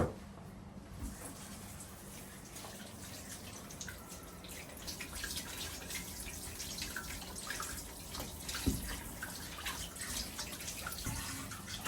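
Sweet potatoes being washed under running kitchen tap water: a faint, steady trickle and splashing with occasional soft drips and knocks, fairly quiet and continuous throughout.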